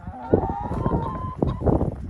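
Chickens cluck and squawk close by, with a person calling out over the birds.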